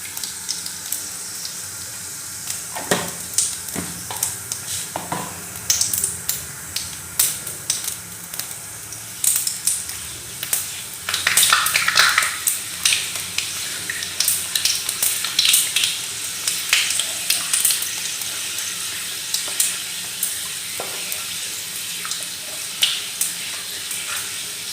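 Whole tempering spices sizzle in hot oil in a pan while mustard seed chutney is being made, a continuous close crackle with sharp pops and spits that swell briefly partway through.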